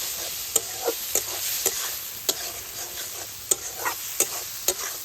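Fried soybean chunks stir-fried with spices in a pan, a steady sizzle broken by repeated sharp scrapes and clinks of a spatula at an irregular rhythm, close and clear with no talk.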